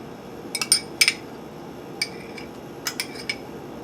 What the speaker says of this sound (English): This is actually a metal measuring spoon, so this will work.